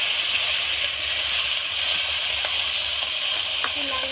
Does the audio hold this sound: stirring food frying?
yes